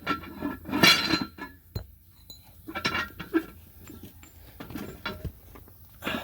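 Sharp metallic clinks and knocks ring out irregularly, several separate slide hammer strikes of metal on metal with quiet gaps between, while changing bearings on a Kewanee disc.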